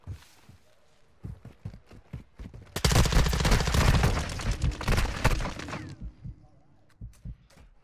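Video game gunfire erupts in a dense, loud sustained burst of rapid automatic shots lasting about three seconds, framed by scattered single pops and thuds before and after, with no voices.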